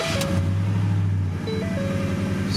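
A former police Ford Raptor pickup engine running close by, giving a steady droning idle with a clear tonal hum that shifts pitch slightly midway, with no talking.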